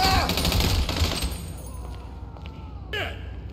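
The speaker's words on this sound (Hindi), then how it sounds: "यहाँ भाई पीछे भाई कोई भाई फायरिंग कर रहा था भाई" Gunfire in the GTA 5 video game: a dense burst of rapid shots and thuds at the start, then fading, with a sharp swooping effect near the end under a steady background bed.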